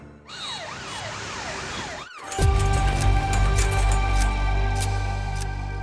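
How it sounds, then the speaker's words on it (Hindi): An ambulance siren wails, rising and falling repeatedly, then cuts off abruptly and gives way to loud engine rumble and clatter with brief sharp clicks. "एम्बुलेंस।"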